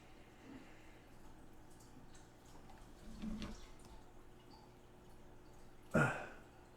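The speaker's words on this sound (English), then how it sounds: "My turtle's splashing around the tank." A pet turtle stirs the water in its tank: a faint slosh, then one sharper splash near the end, set against a low, steady background hum.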